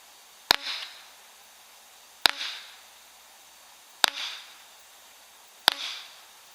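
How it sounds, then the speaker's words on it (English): Four sharp, loud reports from a Prepared 2 Protect HDP50 compact launcher, evenly spaced about two seconds apart, each a crisp crack followed by a brief airy tail, with no talking between the shots. "So now let's take 4 shots with this, and we'll see what happens."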